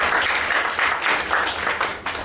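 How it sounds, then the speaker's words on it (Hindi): Sales team members get a hearty round of applause at a Friday sales review meeting, dense steady clapping from a room of people lasting throughout without pause. "जाकिर, मीनाज, अजय सबके लिए जोरदार ताली।"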